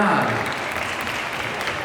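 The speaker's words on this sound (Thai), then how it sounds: "ปรบมือกับพี่แบ๊ด้วยนะฮะ" Applause from an audience at a Nescafe Day 2023 event in Thailand, a brief, dense wash of clapping that starts strong and holds steady.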